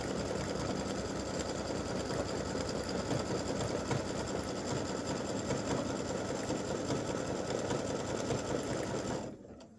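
An embroidery machine stitches out a freestanding lace awareness ribbon design, a dense, rapid, continuous whirring close by that cuts off abruptly just before the end.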